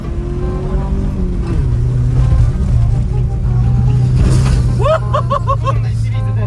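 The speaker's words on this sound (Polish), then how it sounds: "Boli mnie serce jak słyszę jak chrupie wszystko w tym samochodzie." A Subaru fitted with oversized truck wheels rumbles along with a low, steady drone and some rattling crunch. Near the end a string of short, repeated high chirps joins in over the engine.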